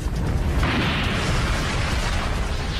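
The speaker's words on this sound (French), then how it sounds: "Le pneu vient d'exploser." An aircraft tire bursts in a fire-test laboratory, heard as a loud, sustained roaring rush of noise with a heavy low rumble and no speech.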